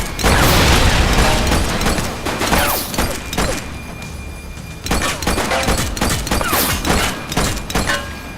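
Gunfire in The Precinct, a police game: a burst of loud sharp shots and rattling bangs, followed by scattered cracks and mechanical clatter over a dense, noisy background.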